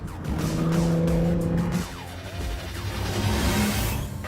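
A Honda NSX hybrid supercar drives hard, its engine note sweeping up and down with brief tire squeal, loud at first and then easing a little, with no voices.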